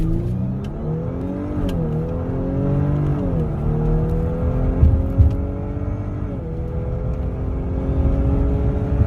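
An Audi B9 S4 fitted with an 034 Motorsport intake revving hard on a dyno with the engine hot, a steady engine drone climbing in pitch through several gear-like steps, with no talk.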